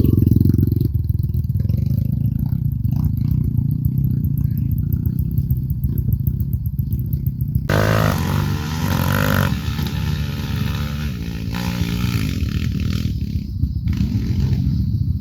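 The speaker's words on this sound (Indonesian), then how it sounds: "kita buka karbu brother" Kawasaki KLX dirt bike engine on a trail ride, steady loud engine drone that shifts partway through into a higher, rougher revving with throttle changes, close and continuous with no talk.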